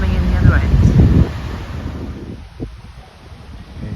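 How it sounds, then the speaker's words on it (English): Wind buffets the microphone in gusty low rumbles by a canal lock, heaviest at first and then easing, with some water and outdoor noise behind it. "It's a bit windy today"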